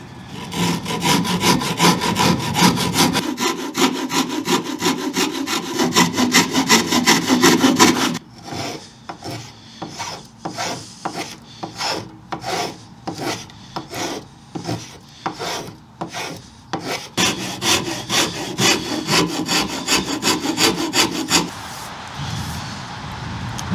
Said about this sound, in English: I'll move on to the next spot where I'll start filing